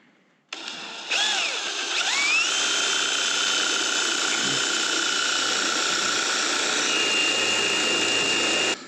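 A power drill whines steadily for several seconds at close range, loud and continuous after a brief start-up, with slight pitch shifts as it bites.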